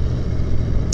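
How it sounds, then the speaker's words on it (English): A motorcycle engine revs loud and steady through the exhaust of the bike, a brief close-up burst with no talk. "It sounds like a MotoGP bike."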